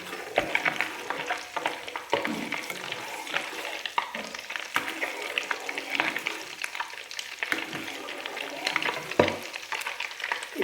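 Butter simmering into ghee in a pan on low heat as its milk solids brown, a continuous close fizzing sizzle with faint bubbling pops throughout and no talk.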